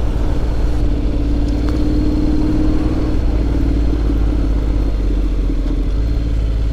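A Honda X-ADV750 scooter engine drones steadily while its DCT gearbox shifts automatically, a constant close rumble whose pitch holds and then drops slightly midway, with no voices.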